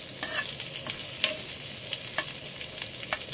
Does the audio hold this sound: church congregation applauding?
no